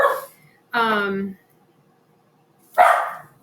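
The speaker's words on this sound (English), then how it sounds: "Hey Taylor, let them out. Bark outside. They're just yappy little things." Small yappy dogs barking in a home kitchen, a short burst of high, sharp yaps followed by a pause and another loud bark, close by, with no talk over them.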